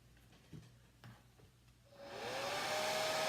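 A hair dryer switches on partway through and runs with a loud, steady whoosh and rising whine, drying a freshly painted motivational sign, after a few quiet knocks and taps on a table.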